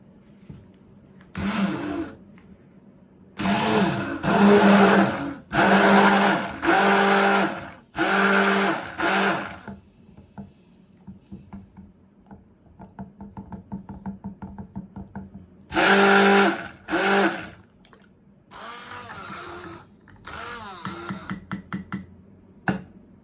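A blender whirs in short, loud pulses, repeated bursts stopping and starting as it quickly mixes melted oils for soap, with quiet gaps and soft knocks between.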